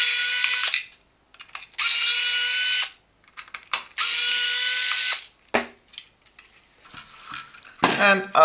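Cordless power screwdriver removing three screws from the board of a Parkside PAAL 6000 C2 work light, three loud close whirring bursts of about a second each, separated by clicks and handling rattles.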